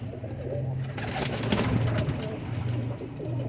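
Pigeons coo in low, repeating rolls close by, with steady background noise and light rustling around them.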